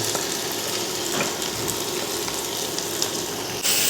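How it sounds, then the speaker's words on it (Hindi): Onion, tomato, green chili and crushed ginger-garlic masala fry in a pan with minced meat for egg kheema, giving a steady, loud, close sizzle that runs unbroken throughout. "पहले इसको थोड़ा सा फ्राई करते हैं"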